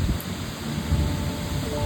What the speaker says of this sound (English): The last thing you want to do is get caught in a storm like this.